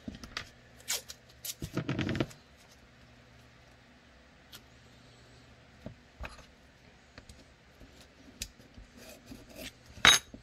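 Adhesive tape being pulled and pressed down during a fitting job, a loud ripping burst followed by scattered faint crinkles and taps against a quiet background.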